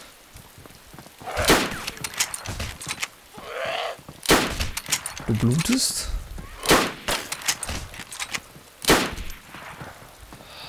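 Gunfire in the survival video game DayZ: several sharp broadband bursts spaced a few seconds apart, fairly loud, mixed with players talking over each other.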